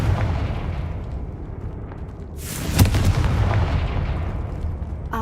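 A Confringo fire spell in a Harry Potter video game erupts as a sudden loud blast, followed by a rumbling, crackling roar that fades over a couple of seconds, with no voices.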